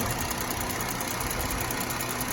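A 2016 Dodge Durango's 3.6-litre Pentastar V6 idles steadily and loudly up close after a tune-up with new spark plugs, a continuous even hum with no voices over it.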